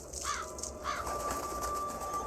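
A raven in the Redemption Cemetery: Curse of the Raven PC game gives two short, raspy caws in quick succession, fairly close, over a steady ambient background.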